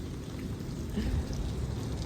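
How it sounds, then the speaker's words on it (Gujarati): Steady night rain falling, a dense continuous patter with no voices, fairly close and moderate in level throughout. "રાતનો વરસાદ ચાલુ છે."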